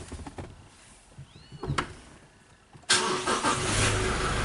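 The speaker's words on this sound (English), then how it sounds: "We're gonna just start the vehicle up." A 2015 Toyota Hilux with a push-start system and a flashing four-wheel-drive light cranks and fires up, a quiet lead-in giving way abruptly to a loud, steady idle that holds to the end.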